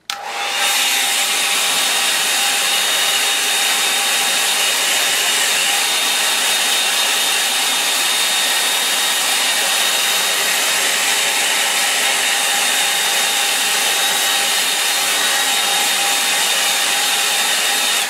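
A hair dryer blows over paper to dry ink and paint. A loud, steady, close whoosh switches on sharply and holds unbroken throughout.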